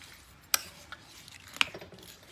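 A spoon clinks against a pot twice while chili with broken spaghetti pieces is stirred, two sharp metallic taps over a faint, quiet background.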